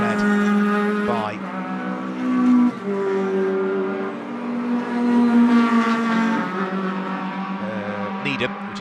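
Sports 2000 race cars roar around a circuit, with loud engine notes rising and falling as they shift gears and pass one after another, while a commentator talks over the racing.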